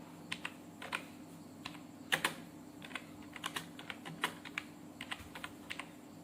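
A computer keyboard clacks under irregular, close keystrokes as a short sentence is typed, quick taps clustered in bursts over a faint steady hum.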